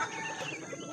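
A rooster that has been in a fight, face badly bruised, makes short clucking sounds close by, with a dense, steady texture throughout and no talking.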